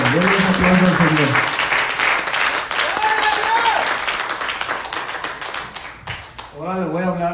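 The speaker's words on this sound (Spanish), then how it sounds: "Denle un aplauso al Señor." A church congregation applauds the Lord in a sustained wave of clapping that thins out over several seconds, with a preacher's voice speaking over the start and returning at the end.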